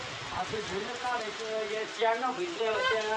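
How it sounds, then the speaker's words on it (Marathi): Steady rain patters on a surface in a village while people talk over it. "पाऊस बी आलाय हो."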